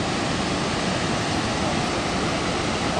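Savica waterfall in Bohinj, Slovenia, gives a constant, loud, broad rush of falling water that does not let up. No one speaks over it.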